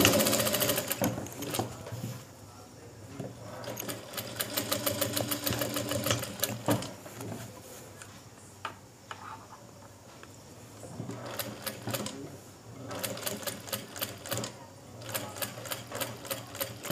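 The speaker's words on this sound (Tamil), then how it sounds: "கொஞ்சம் கவனமாக பார்த்து நீங்கள் பொறுமையாக தைச்சிங்கன்னா நீட்டாக வரும்" A tailoring sewing machine stitching an open seam in fabric: rapid, rattling runs of needle strokes come in several bursts separated by pauses, close by, with a person talking in between.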